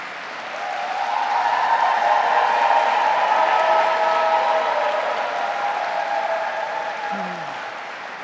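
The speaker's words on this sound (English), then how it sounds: "Let's give a special round of applause to Senator Zelma Riley and Catalina Cruz." Audience applause for Senator Zelma Riley and Catalina Cruz at a bill-signing event, a sustained wash of clapping that swells, holds steady and then eases off slightly.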